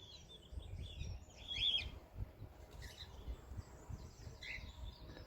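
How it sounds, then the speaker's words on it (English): Cockatiels in an outdoor aviary give faint, scattered chirps and calls over a low rumbling outdoor background. "behind me you will have heard our cockatiels"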